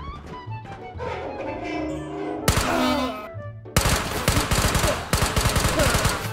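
A high fire rate gun in the Ghosts of Tabor VR game, loud rapid automatic bursts of closely packed shots, arriving in several separate strings after a quieter lead-in.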